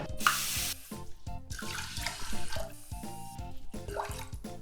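Water runs steadily from a tap into a pot of rice, a continuous splashing stream with gentle rising tones as the vessel fills, close and fairly quiet.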